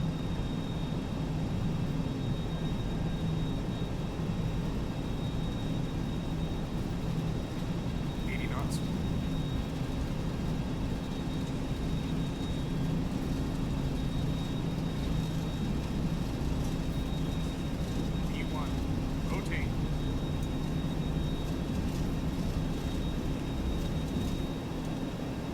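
Airliner engines at takeoff thrust in the X-Plane 11 flight simulator, a steady, loud, broadband roar holding constant throughout with a faint high whine and a couple of brief chirps.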